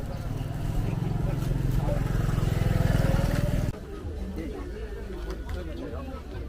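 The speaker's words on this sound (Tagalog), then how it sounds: "Ay, may motor." A motorcycle engine drones close by for a few seconds, then cuts away, in a busy street market in Seoul with chatter and voices around it.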